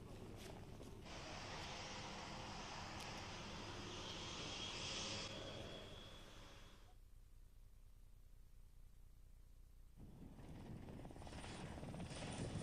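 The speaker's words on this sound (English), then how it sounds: "Be vigilant as the helicopter approaches." A helicopter approaching an offshore helideck, its broad rotor and engine roar loud and steady, fading back somewhat mid-way before swelling again as it draws closer, with wind noise around it.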